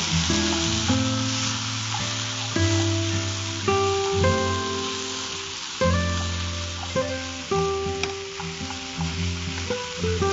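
Ingredients sautéing in a pan for a home-cooked Indian dish, with a steady close sizzle and frying hiss throughout, mixed with loud tonal music, broken by occasional stirring scrapes; no talk.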